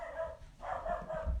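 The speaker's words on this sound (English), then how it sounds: "You can probably hear the dog barking." A dog barks a few times in the background, short muffled woofs in a quick uneven series, heard alone without talk.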